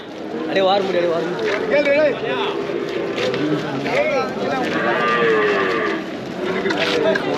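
Cattle at a native livestock market in Vaniyambadi moo loudly and repeatedly amid a dense, noisy crowd, with people talking throughout.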